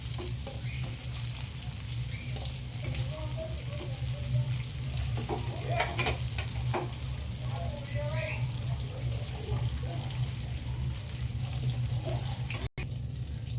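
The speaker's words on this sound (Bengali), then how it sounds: "মাছগুলো আমি সব ভালো করে ভেজে নেব।" Prawns fry in hot oil with a steady, close crackling sizzle and occasional stirring, constant for the whole stretch, with a low hum underneath.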